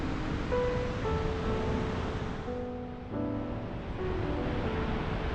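Niagara Falls roars as a steady, dense wash of rushing water, loud and unbroken throughout with no voices.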